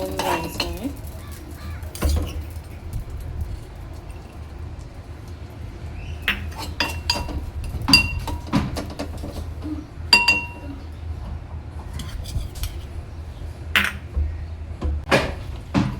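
A spoon scrapes and clinks against a pan while jaggery is stirred into melted ghee, giving irregular metallic taps and knocks over a low background hum.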